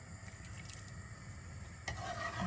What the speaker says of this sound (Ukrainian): Все перемішуємо і знов додаємо картопляного відвару.